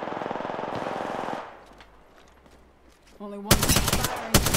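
Automatic gunfire in the video game Apex Legends, a rapid burst at the start, a quieter gap with a voice speaking, then a louder closer volley of shots.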